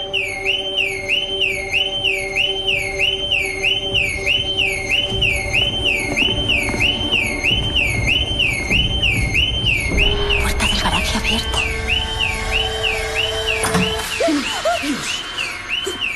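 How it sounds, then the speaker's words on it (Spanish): An electronic alarm sounds indoors in a thriller film, a steady warbling tone cycling rhythmically for the whole stretch, loud and continuous, with clattering and movement noises joining partway through. "¿Qué haces con la alarma?"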